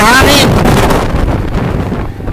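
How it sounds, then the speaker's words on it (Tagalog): Strong wind roars and buffets the microphone in heavy gusts during the Ronda Pilipinas cycling race, a loud rumbling rush, with a voice briefly audible at the start. "Ang lakas ng hangin."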